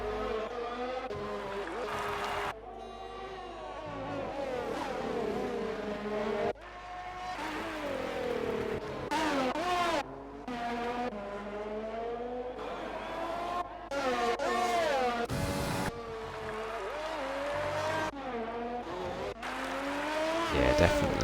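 Race cars engines whine and shift through the gears in a sim racing game on the Singapore street circuit, with rising and falling revs and a few abrupt cuts, under a commentator's voice.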